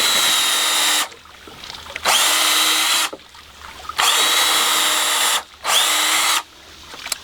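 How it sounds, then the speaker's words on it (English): A power drill bores pilot holes in wood in four loud, close bursts of high whirring, each about a second long, separated by brief pauses. "I'm going to use my drill to make some pilot holes"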